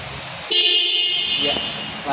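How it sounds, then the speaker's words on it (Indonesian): A car horn blares in one sustained honk lasting over a second, loud and close, with a brief voice heard around it. "klakson berada dalam kondisi bagus"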